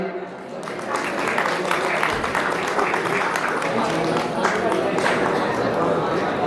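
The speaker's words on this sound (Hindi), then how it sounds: "जोरदार ताली।" A crowd at the Basant Panchami fair at Kanvashram, Uttarakhand, applauds steadily to welcome the runner-up JB Club Kotdwar, a dense, continuous wash of clapping with chatter mixed in.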